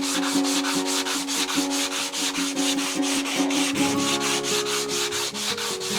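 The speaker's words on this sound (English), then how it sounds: "let's make ourselves up just a little sanding block to do this" Hand sanding of wood with 120-grit sandpaper wrapped on a block, moving with the grain in steady, regular back-and-forth rasping strokes, close and loud with no talk.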